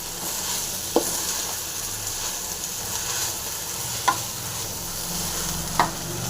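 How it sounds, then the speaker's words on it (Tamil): Thumbai herb leaves fry and are sautéed in a pan under a continuous close sizzle, with three distinct spatula knocks against the pan spaced a few seconds apart. "இதையும் போட்டு நல்லா ஃப்ரை பண்ணி நல்லா வதக்கிங்க"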